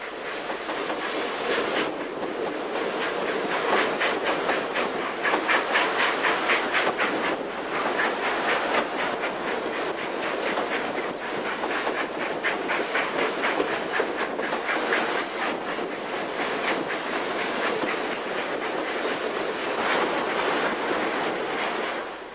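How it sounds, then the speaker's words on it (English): A Union Pacific 4-8-4 steam locomotive hauls a train through the Royal Gorge canyon in Colorado in 1997, a sustained, fairly loud rhythm of chuffing exhaust, hiss and rolling rail clatter with no voices. "It was an incongruous sight to find a UP-484 threading the incredible chasm of the Royal Gorge in 1997"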